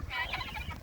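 A speckled Sussex and Barred Rock cross rooster vocalizes in a short, close burst of crowing-like calls, with low barnyard rumble underneath and no talk.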